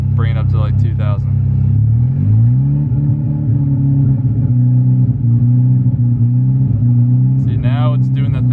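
A big-turbo MK6 VW Golf R with a rough idle and timing fault climbs smoothly from idle toward about 2,000 rpm and holds there as a loud, steady hum. Someone talks briefly at the start and end.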